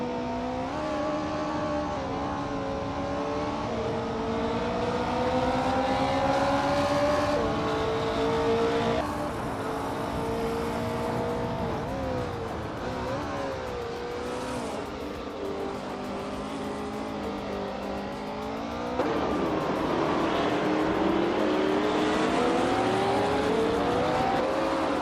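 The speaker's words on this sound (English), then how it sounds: "1967 Nissan R380A2, a classic Japanese race car." A 1967 Nissan R380A2 classic Japanese race car engine in a racing video game, revving loud and continuous with pitch that climbs and drops through gear changes for the whole stretch, with no voices.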